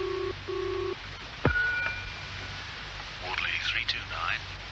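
A telephone ringing tone comes down the line in a radio drama, two short electronic bursts at the start, followed by a click and faint voices talking.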